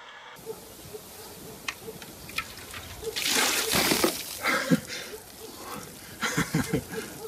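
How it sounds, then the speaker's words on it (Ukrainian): Icy water splashes and sprays as a bucket of it is dumped over a person outdoors during an ice bucket charity challenge, a loud burst of gushing and splattering amid scattered small splashes and background murmur. "облився крижаною водою"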